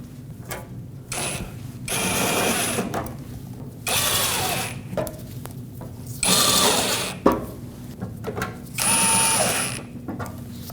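A hand ratchet clicks in four bursts, driving screws into the center shield under the front bumper of a 2005-2021 Nissan Frontier pickup, with close, rapid pawl clicking between short pauses.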